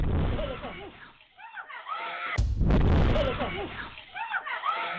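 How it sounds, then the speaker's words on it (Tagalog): A portable gas stove explodes inside a house, a sudden loud burst that cuts through speech and fills the space with a roaring blast before talk resumes. "Biglang may sumabog at naglihap sa bahay."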